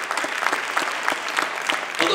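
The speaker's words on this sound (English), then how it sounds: "Let's give our volunteers one more big round of applause." Audience at a hypnosis show applauds the volunteers, a loud, continuous round of clapping mixed with crowd noise.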